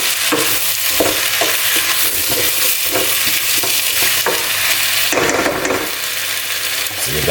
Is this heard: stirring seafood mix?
yes